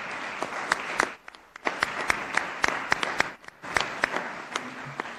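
Audience applause for the speakers at a colloquium in the Council of State; brisk clapping in bursts, with a brief dip near the start and another in the middle, close and fairly loud, without voices.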